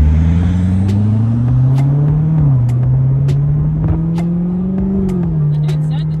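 A '64 Nova engine revs up and settles repeatedly, a deep throaty exhaust note rising and falling close by, with faint clicks over the top.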